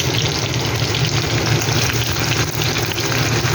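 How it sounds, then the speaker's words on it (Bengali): Sliced onion frying in hot oil with black cumin seeds, a steady dense sizzle and crackle that stays loud and close throughout with no voices. "এবার আমি এখানে একটা মতো পেঁয়াজ কেটে দিয়ে দিলাম।"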